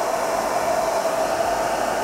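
Hair dryer and space heater both running at maximum power, a steady loud whooshing blower roar with a constant motor hum, unchanging throughout and without talk.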